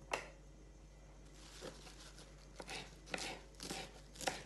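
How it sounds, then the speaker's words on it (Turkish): Knife chopping mint leaves on a board for homemade lemonade, a handful of soft, irregular cuts spaced apart against a quiet background. "Ve şimdi bir miktar nane doğrayalım içine."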